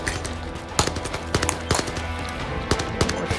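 Gunfire in the VR shooter Zero Caliber Reloaded, played on an Oculus Quest: a series of sharp, separate shots spaced irregularly across a steady game background, moderately loud.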